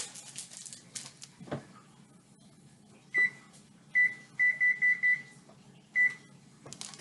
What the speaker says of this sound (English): we also need to preheat the oven to 375 degrees